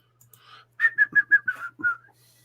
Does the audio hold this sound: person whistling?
yes